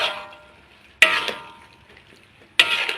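Luffa gourd stir-fried with pork and fresh chili in a large pan: a soft continuous sizzle broken by two sharp metallic scrapes of a spatula against the pan about a second and a half apart.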